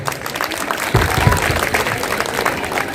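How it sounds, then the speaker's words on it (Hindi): An audience at a Republic Day speech gathering gives a short burst of clapping, moderately loud and steady, with some voices and crowd murmur underneath. "एक बार जोरदार तालियां बजाएं"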